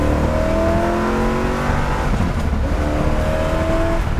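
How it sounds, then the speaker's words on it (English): A restored 1967 Chevrolet Corvette's engine revs loudly and climbs in pitch as it accelerates from a rolling start, close by, with a rising, sustained roar and no voices. "I'm going to do a little bit of a rolling start here."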